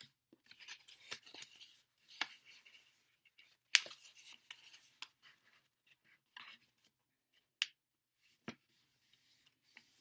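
Sheet of paper folded down toward the middle for a paper airplane, giving faint, sparse crinkles and soft creasing rustles with quiet pauses between them.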